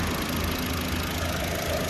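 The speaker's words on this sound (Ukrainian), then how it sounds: "двигун працює достатньо нормально, як це робить GM" A GM car engine idles steadily with the hood open, a close, even mechanical hum with a low rhythmic throb and no voices over it.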